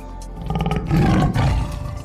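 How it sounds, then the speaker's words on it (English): A lion roars loudly and close by, a deep rumbling roar that swells in the middle and carries on to the end, alone with no voices. "the lion,"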